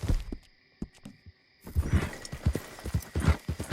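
A horse's hooves clip-clop in the western video game Red Dead Redemption 2. Sparse isolated steps are followed by a quicker, louder, steady rhythm of hoofbeats as the horse moves off, with no talk.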